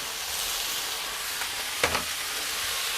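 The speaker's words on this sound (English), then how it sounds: "Just a handful of leeks, just sweat those down a little bit" A handful of leeks sweating down in a frying pan give off a steady soft sizzle and hiss, with one brief clatter of stirring near the end and no voices.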